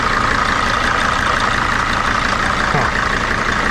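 A Sprinter van's engine idles hot and steadily, a constant close mechanical drone with a faint fan whir holding level throughout, no voices.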